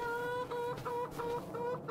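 Chickens clucking in the farming video game Farming Simulator 25, a steady run of short repeated clucks with a thin tonal hum underneath, fairly faint and close, with no talking.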